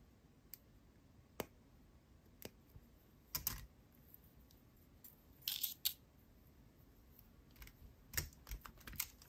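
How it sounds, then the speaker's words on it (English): A jewelry chain is cut by hand, giving a few sharp, separate snips and small metallic clicks at uneven intervals, close by and faint against a quiet background. "we can go ahead and cut our chain"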